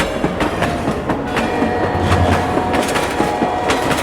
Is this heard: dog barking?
no